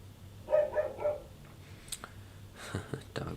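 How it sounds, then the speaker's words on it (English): A dog barks three times in quick succession in the background, fairly faint and distant, followed by scattered clicks and faint room noise. "Dog's barking in the background."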